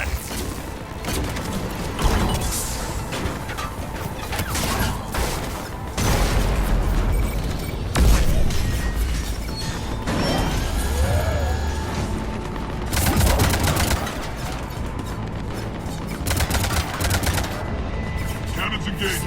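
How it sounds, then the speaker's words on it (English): Heavy cannons firing in the Mass Effect 3 video game during a fight against an Atlas mech, producing repeated loud booming blasts and gunfire-like bursts over a dense, continuous battle din with voices mixed in. "Cannons engaged."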